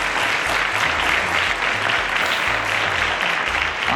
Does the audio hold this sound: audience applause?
yes